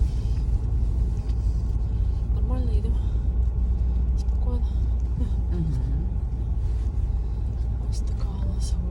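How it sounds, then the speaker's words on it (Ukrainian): A car with an automatic gearbox pulls away in manual mode in second gear on a bumpy, gravel-strewn track with steep climbs and descents; a steady, close low engine rumble runs throughout, with faint voices in the background. "Переходимо в мануальний режим і включаємо другу, друга і виїжджаємо"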